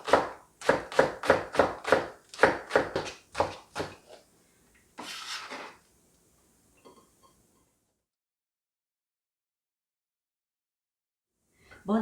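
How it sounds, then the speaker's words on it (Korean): Rapid, crisp knife chops through green onion on a cutting board, close and loud. A quick run of about a dozen even strokes is followed by a short scraping sound, then near silence. "대파는 총총총 이렇게 썰어 주세요"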